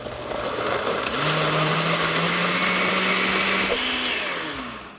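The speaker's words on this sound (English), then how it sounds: "Now we could blend." A blender whirs steadily for several seconds while blending a poblano pepper sauce. The motor drone is loud and close, starting up, holding constant, then winding down with no talk.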